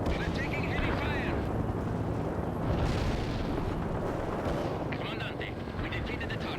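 A World in Conflict artillery strike pounds continuously with heavy, rumbling explosions, dense and loud throughout. Radio-style voices talk over the blasts.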